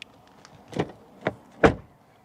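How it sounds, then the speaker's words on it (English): Three solid thuds of a 2024 Volkswagen Tiguan R-Line car door shutting, spaced about half a second apart, close by and fairly loud, with quiet background between them. "Door closing sound. It is very nice."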